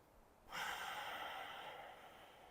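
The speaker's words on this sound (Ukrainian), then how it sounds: "Тобто ми видихаємо, потім робимо вдих." A single slow breath during a kundalini yoga breathing exercise, quiet and close, rising suddenly after a short silence and trailing off softly.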